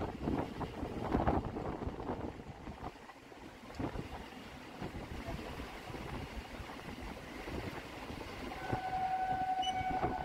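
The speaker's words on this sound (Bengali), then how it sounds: "একটু আগেই কতটা নিচ দিয়ে চলছিল আমাদের ট্রেন, আর এখন কতটা উপরে উঠে গেছে" A Katwa-Ahmadpur MEMU train runs steadily, its rumble and wheel clatter constant and close, with wind buffeting and a thin whine rising near the end.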